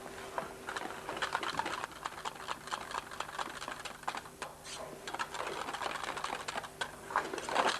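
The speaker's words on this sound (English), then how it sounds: "Whisk the mixture well." Egg yolk mixture being whisked in a bowl, a rapid, continuous clicking and rattling of the whisk against the sides, close and fairly even throughout, with no voices.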